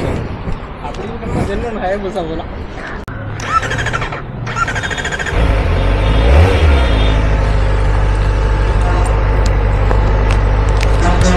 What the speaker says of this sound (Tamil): ZX4RR ஓட்ட போகிறேன்